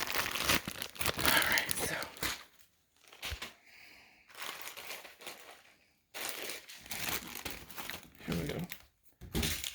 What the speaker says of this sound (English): I'm having to use my underarm to rip this open. It's just the packaging